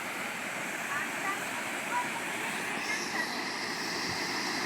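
Jamjir waterfall in Gir thunders as a steady, loud broadband roar of falling water, with a voice faintly under it.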